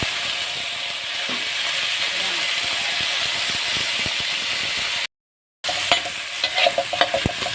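Meat and garlic stir-frying in a pan, a steady broadband sizzle with scraping stirs throughout, cut by a brief gap, then resuming with sharper clicks of the utensil against the pan.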